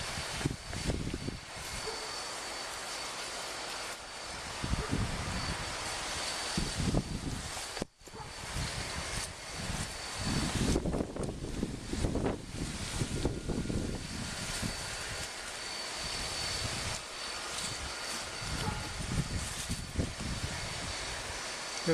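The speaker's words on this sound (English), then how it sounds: "Pretty windy up here." Steady wind roaring and buffeting across the whole stretch, rising and falling in gusts with no voices.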